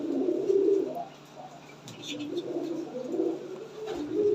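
Lotan pigeons with feathered feet coo repeatedly in low, rolling phrases close by, with soft background rustle between calls.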